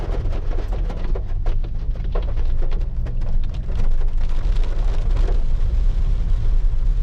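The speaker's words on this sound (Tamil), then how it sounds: "திருப்பி மழை ஸ்டார்ட் ஆகிடுச்சு" Heavy monsoon rain pours down steadily in Munnar, a dense, continuous hiss that swells slightly louder midway and carries on without a break.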